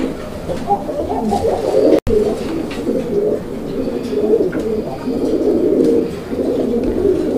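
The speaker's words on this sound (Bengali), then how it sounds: "দেখেন কবুতর" Pigeons coo continuously in soft, throaty rolling calls, close and fairly loud, with a brief cut partway through.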